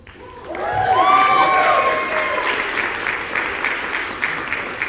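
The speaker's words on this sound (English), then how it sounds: "One more round of applause for all of our recipients" An audience at a university music convocation applauds an award recipient, a loud, full round of clapping with some cheering and whooping voices rising over it before settling into steady applause.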